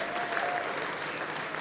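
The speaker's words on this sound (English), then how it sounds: "Let's give them all a big round of applause." Convention audience applauding at a state Democratic Party gathering, a dense, steady wash of clapping that fills the whole moment at even loudness.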